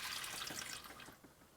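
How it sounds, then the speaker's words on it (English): Green-tinged engine oil, mixed with coolant from a broken engine, drains into a bucket in a steady hissing, splashing stream that is faint and close and tapers off toward the end. "I'm dumping the oil now and just see if the rest of the coolant's in there"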